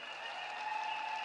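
Crowd applause for Kenyan President William Samoei at a women's charter signing, a faint, distant, even wash of clapping with a steady tonal hum beneath.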